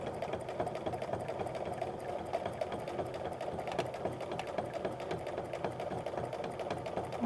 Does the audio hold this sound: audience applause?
no